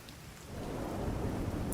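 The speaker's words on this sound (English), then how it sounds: "I have some heavy rain" Heavy rain in the video game The Division, a dense, steady rushing wash with low rumble that swells slightly, heard alone.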